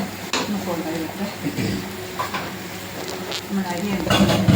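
Chopped onion and a little green chili sizzle in hot oil while a spoon scrapes and knocks around the pan, a close, continuous frying hiss with clatter, with a voice talking over it.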